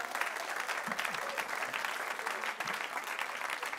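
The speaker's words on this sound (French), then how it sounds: "en tout cas on peut l'applaudir chaleureusement" An audience claps warmly and steadily for several seconds, a dense, continuous patter of many hands with no voices rising above it.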